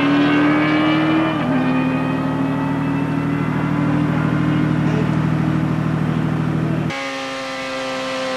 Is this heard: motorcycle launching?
yes